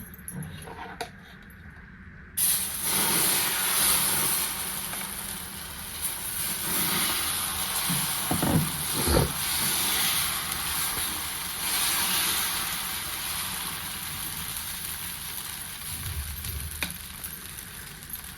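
Steady crackling sizzle of semolina batter on a hot, lightly oiled griddle, loud and close, running throughout with a few soft low knocks partway through.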